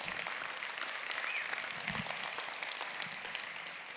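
Steady applause from a convention audience fills the room at moderate, even volume, dense overlapping claps with no voices standing out.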